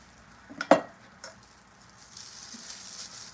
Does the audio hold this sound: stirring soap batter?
yes